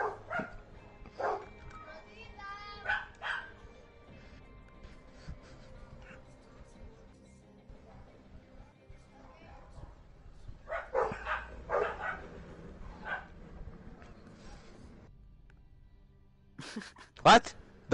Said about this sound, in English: That was my dog, I think.